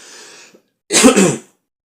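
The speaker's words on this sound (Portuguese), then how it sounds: "perdão pela tosse" A single loud cough bursts out close by, preceded by a brief faint breathy sound.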